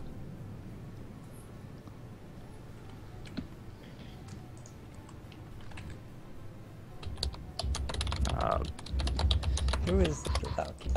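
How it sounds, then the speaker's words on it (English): A loud computer keyboard clatters during an online tabletop game session, faint at first under quiet background talk, then growing into rapid, prominent key clicks toward the end. "I'm having a really hard time concentrating with the loud keyboard."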